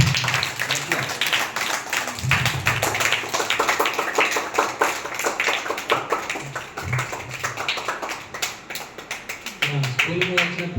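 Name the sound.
students clapping at school event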